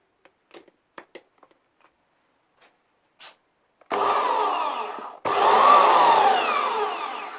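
A Vevor portable band saw switches on after a few faint clicks and handling taps, then runs with a loud, broad whirring hum that drops out briefly before starting up again.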